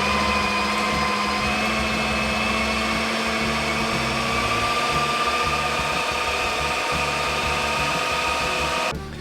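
An electric meat grinder runs continuously, processing pork for homemade Italian sausage, a steady motor whine with a low hum that stays loud and unbroken for about nine seconds, then stops abruptly.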